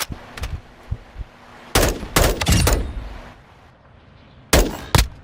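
Gunfire in Call of Duty 2: sharp bursts of shots in clustered volleys, some rapid like a machine gun, separated by quieter gaps, with a faint background tone.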